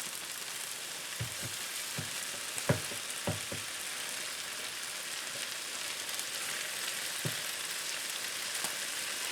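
Mushrooms frying in a pan for an omelet sandwich, a steady soft sizzle throughout with scattered sharp pops and crackles, fairly quiet and close.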